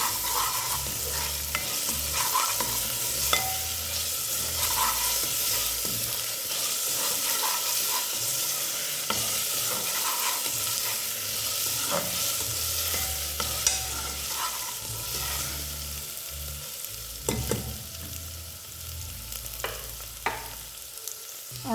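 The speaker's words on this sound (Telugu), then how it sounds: "వన్ టేబుల్ స్పూన్ అల్లం వెల్లుల్లి పేస్ట్ కూడా వేసుకుందాం. ఒకసారి కలుపుకుందాం." Ginger garlic paste being stirred into sizzling frying onions in a pan for mushroom biryani; a steady close sizzle with scraping stir strokes runs continuously throughout, no voices.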